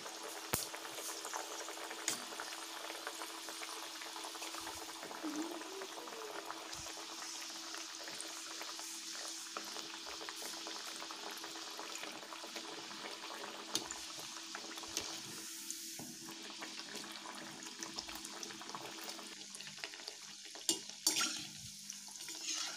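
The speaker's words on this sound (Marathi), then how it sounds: "तेल गरमसुद्धा आलेलं आहे। आता मी या गारगा सोडून घेणार आहे।" Pumpkin gharge made with jaggery frying in hot oil, a steady, faint bubbling hiss that continues evenly throughout with occasional small pops and no voices.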